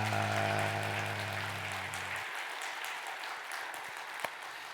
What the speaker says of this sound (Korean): 우리 힘차게 박수 한번 하도록 하겠습니다.